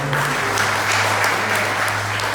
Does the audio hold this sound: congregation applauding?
yes